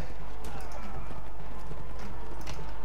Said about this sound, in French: le cheval qui s'est mis à terre